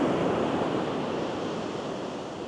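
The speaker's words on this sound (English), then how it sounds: "That pounding swell's causing a bit of aggro on my line." Heavy ocean swell surges and breaks on a beach as a loud, continuous broadband wash with no voices.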